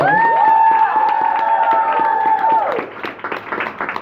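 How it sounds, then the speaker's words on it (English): An audience applauds and cheers for Theodora, with a loud, sustained, wavering tonal cry over the clapping for about two and a half seconds before it drops away, leaving scattered claps and crowd noise. "A big applause for her"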